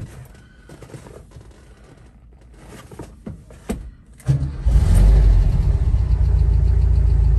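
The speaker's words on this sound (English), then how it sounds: "quick video of start up and running on this T2 Westfalia" VW Type 2 Westfalia camper engine first turns over with faint clicks and cranking, then catches at about four seconds and settles into a loud, steady close idle.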